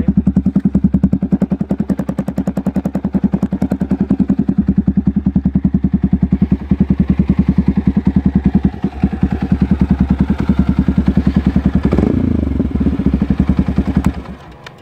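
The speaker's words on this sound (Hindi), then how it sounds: "अभी ये स्टार्ट है इंजन, आप देख सकते हैं" A modified Yamaha R15 sport motorcycle engine runs loudly close by, a rapid steady firing pulse with deep bass that continues for most of the clip, a brief revving surge near the end before it cuts off.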